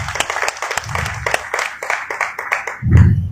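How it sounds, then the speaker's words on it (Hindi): An audience at a party convention in Lahore claps for a leader, uneven scattered hand claps with distinct sharp strikes rising and falling, plus a brief low thump near the end. "इसके लिए मैं समझता हूँ उनके लिए तालियां भी दें।"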